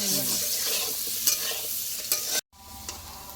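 Potatoes sizzle steadily frying in a pan while a utensil stirs and scrapes a few times; the sizzle drops out for a moment, then continues more quietly.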